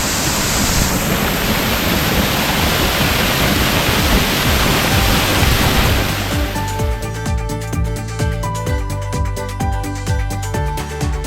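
A powerful waterfall roars close by as a dense, constant rush of falling water, loud and unbroken throughout.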